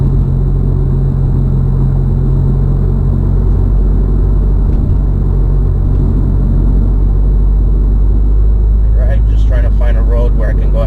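A 2018-2019 Honda Accord fitted with a Thermal R&D exhaust, heard from inside as a loud, steady, deep engine drone and road rumble while accelerating through the gears, with a brief voice near the end.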